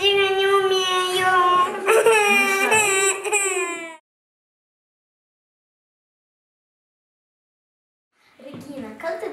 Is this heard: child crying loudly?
yes